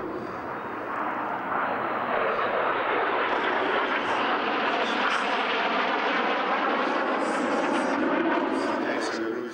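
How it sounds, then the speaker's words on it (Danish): Display team aircraft flying a corkscrew manoeuvre at an air show, a loud, steady engine roar sustained throughout with a commentator's voice underneath. "here comes Jippo as they fly the corkscrew."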